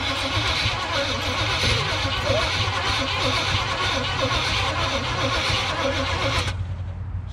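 An old two-stroke engine, left sitting for over ten years, cranks over continuously with a loud, steady mechanical churn that nearly catches. The sound cuts off abruptly near the end.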